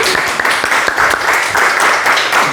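A seated audience at a cultural centre book presentation applauds steadily and densely, a loud wash of many hands clapping throughout.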